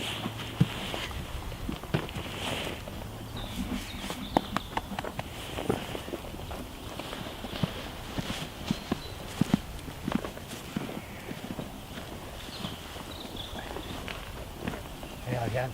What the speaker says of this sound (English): It's a purebred Friesian. What a lovely friendly horse it is.